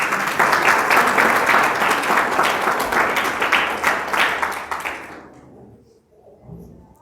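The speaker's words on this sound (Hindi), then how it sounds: "हमें एक बारी तालियां बजाएंगे प्रभु यीशु मसीह के लिए" Church congregation clapping for Jesus during a Hindi sermon, loud, dense applause lasting about five seconds before fading out into quiet and a little room noise.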